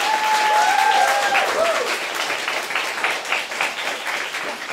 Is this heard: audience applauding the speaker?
yes